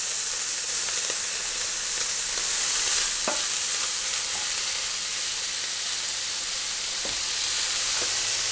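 Bacon lardons and chopped shallot sizzle steadily in a hot pan, a dense, close frying hiss with a few scattered clicks and taps as they are stirred.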